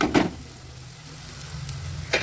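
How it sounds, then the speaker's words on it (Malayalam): Ginger, garlic and green chili sautéing in a pan for a squid roast, giving a soft steady sizzle, with a few louder scrapes of stirring at the start and near the end. "ഇനി ഈ ഇഞ്ചിയുടെയും വെളുത്തുള്ളിയുടെയും പച്ചമുളകിൻ്റെ ഒക്കെ പച്ചമണം മാറുന്നത് വരെ ഇതൊന്ന് വഴറ്റിയെടുക്കാം."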